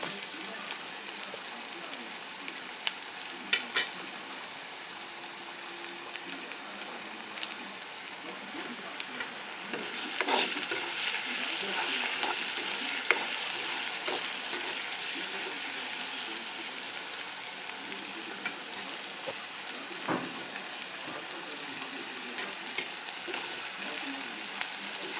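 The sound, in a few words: ginger, garlic and onion paste frying in a pan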